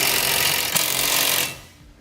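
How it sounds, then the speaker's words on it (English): A power tool with a 19mm socket drives down trailer-hitch bolts on a Curt receiver install, a loud, close, continuous rattling whir that cuts out and fades about three-quarters of the way through. "Now go back and finish tightening down your hardware. You'll still use your 19mm socket."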